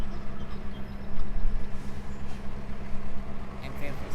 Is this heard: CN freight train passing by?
yes